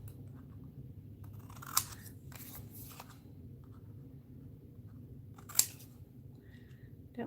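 Scissors snip along the sides of a piece of craft material, a few crisp cuts spread out over a low steady background hum, close and fairly quiet.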